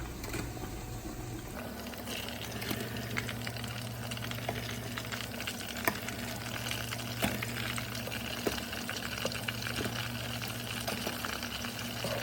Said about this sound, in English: And you're gonna begin to fry them.